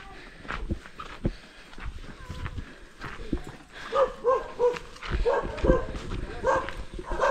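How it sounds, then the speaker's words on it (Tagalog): Several dogs bark in short, repeated bursts at close range, with a scatter of shuffling and knocking noises between the barks. Nobody speaks. "Dogs."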